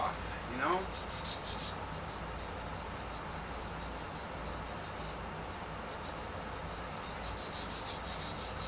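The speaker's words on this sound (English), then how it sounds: "Just getting those burrs off" Filing burrs off a sharp edge by hand, heard as a steady, close rasping scrape that runs continuously with faint rhythmic strokes.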